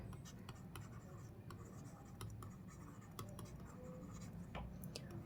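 Digits are written on a board in quick, scratchy strokes, a steady run of short marker or chalk sounds close to the microphone.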